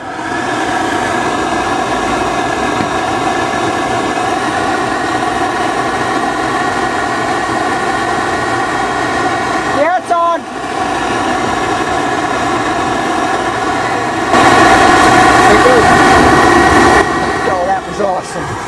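A 2005 Goodman GPG10 gas pack, 2.5 ton and 70K BTU, firing its burner in heat mode outdoors: a steady mechanical hum with tonal whine, a brief dip midway, then a louder roaring surge as the flame catches, with voices nearby.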